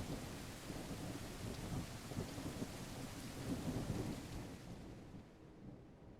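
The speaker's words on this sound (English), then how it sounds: "I love that once you get inside of something, the rain is not nearly as bad." Rain and thunder in a video game, heard as a steady wash of rainfall with deep rolling thunder swelling and fading, the storm cutting off abruptly at the end.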